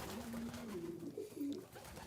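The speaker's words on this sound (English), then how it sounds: "He's a little brown pigeon flying around." A small brown pigeon coos softly in a few low, rounded calls over steady background noise at an animal sanctuary.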